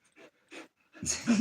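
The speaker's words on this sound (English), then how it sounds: "You sound like you're panting, like you're a panty, Mr. Pantalone." A dog pants in short, breathy bursts, two quick puffs followed by heavier, louder panting mixed with a whimpering vocal sound, close up.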